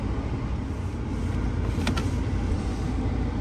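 A Dodge Charger with a NAG1 five-speed automatic transmission drives on a test run, a constant loud interior road rumble and engine drone with a brief faint click midway, no talk.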